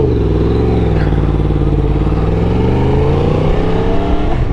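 A motorcycle with a ceramic-coated body rides off, its engine a loud, continuous, close drone whose pitch rises and falls gently as it pulls away.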